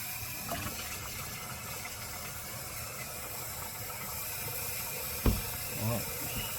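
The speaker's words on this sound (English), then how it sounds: "we'll just give the cutting board a little bit of a rinse" Kitchen tap runs water over a cutting board in a steady splashing rush, with a few clunks and knocks of the board being handled near the end.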